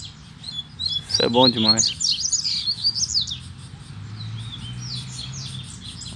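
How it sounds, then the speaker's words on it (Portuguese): Saffron finches chirp and call in a bright, quick burst of tweets up close, then keep up softer scattered calls, while someone speaks briefly over them. "O tanto de canário da terra chamando aqui em cima."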